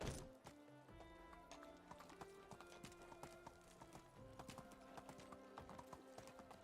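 Horse hooves clip-clop at a steady trot on a path in the medieval village-building game Medieval Dynasty, a close, quiet, regular rhythm that runs the whole time.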